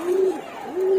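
Pigeons from a sky pigeon loft give a single soft, close coo that rises, dips and rises again over about a second, with no talking.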